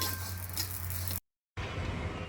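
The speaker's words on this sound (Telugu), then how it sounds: "ఇది కూడా ఇందులోనే వేసి వేయించుకోవాలండి." Ingredients for a curry frying in a pan, a steady bright sizzle broken by a brief total silence before the sizzling resumes at full strength.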